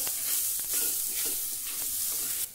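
Fresh okra seeds roast in a dry pan, giving a close, steady sizzle and crackle broken by regular scraping strokes as they are stirred.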